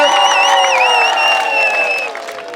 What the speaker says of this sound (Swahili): Mumpigie tena mikono. Makofi sana kwake.